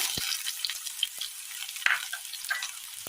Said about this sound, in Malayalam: ചൂടായ എണ്ണയിലേക്ക് കടുക്, ചെറിയുള്ളി അരിഞ്ഞത്,